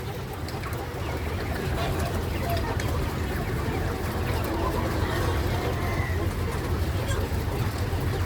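Many laying hens and roosters cluck and murmur together in a dense, continuous din in a crowded poultry house, with a low mechanical hum beneath.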